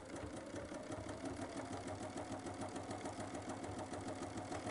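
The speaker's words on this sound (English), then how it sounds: "Choose a zigzag stitch, and I generally just use the default settings." A Bernina sewing machine stitching an open zigzag runs at a steady, even, rapid whir with a fine mechanical pulse, close and constant throughout, with no speech.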